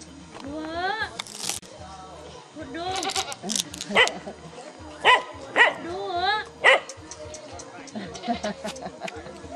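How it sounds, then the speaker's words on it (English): A watchdog in a Hmong Lao village barks in short bursts amid goats and other animal calls. People talk nearby, and the barks rise loud and close between quieter stretches. "Good mama watchdog."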